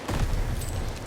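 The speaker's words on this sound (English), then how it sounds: "Tossing grenade." A grenade detonates in a first-person shooter match, a loud, dense blast that rumbles and crackles through about a second of sustained gunfire-like noise.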